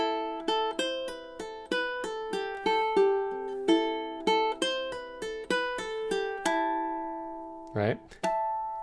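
Solo ukulele plays measures 17 and 18 of a tune, a run of bright plucked notes in a steady lilting rhythm ending in a ringing harmonic and a brief string squeak, heard close and alone.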